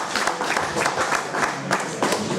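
Applause at a raceway hall of fame induction ceremony, a room full of people clapping steadily and densely for the whole stretch, fairly loud and close, with a murmur of crowd underneath.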